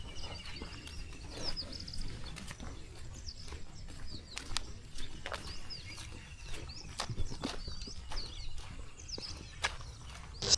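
Sparrows chirp outdoors around a dry dam in farm country. High, thin calls repeat from several directions over a quiet rustling background with scattered soft clicks.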